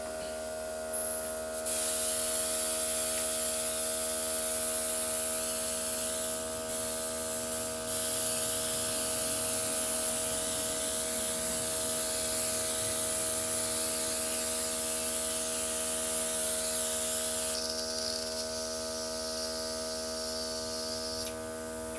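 Airbrush makeup machine spraying liquid foundation, a steady loud hiss with an electrical hum underneath that runs continuously, with brief shifts as the spray is adjusted, no speech.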